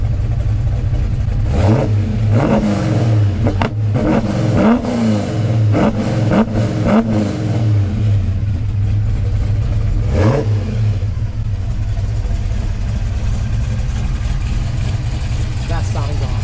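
A 1969 Chevelle Yenko tribute with a GM crate 427 big-block and aluminum heads revs through its exhaust, a deep burbling idle broken by several sharp throttle blips, close and loud, with people talking over it.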